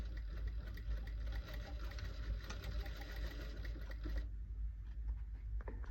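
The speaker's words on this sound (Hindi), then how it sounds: "तो इस तरह से हमने सिलाई लगा देनी है।" A sewing machine runs steadily, stitching a half-inch shoulder seam on a ladies' kameez, with a continuous moderate hum that cuts off near the end.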